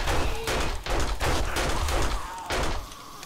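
Rapid gunfire in the survival video game 7 Days to Die, a dense run of loud bursts with short gaps between them and no one speaking over it.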